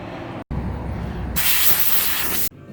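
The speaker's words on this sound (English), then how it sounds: "I'm going to use his air compressor to clean them up because they're filled with desert dust" An air compressor blows a steady hiss of compressed air to clear desert dust from old NEC Multisync RGB CRT monitors, with one short pause, then a louder, brighter blast that cuts off abruptly, heard close with no talking.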